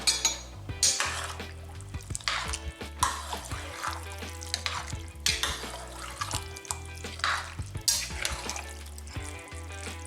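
A spoon stirs venison chili in a pot, scraping and clanking against the metal in a busy, irregular rhythm close up, with a wet, sloshing texture and no voices.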